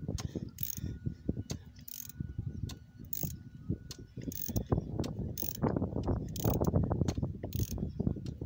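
A ratchet loosens a stiff spark plug on a Nissan Pixo 1.0 engine, giving close, repeated clicking strokes in an uneven rhythm with brief pauses between turns.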